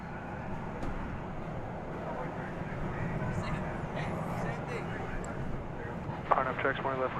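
American Airlines Boeing 787-9 at DFW Airport at night, a distant steady jet rumble under ongoing speech, with a dog whimpering near the end.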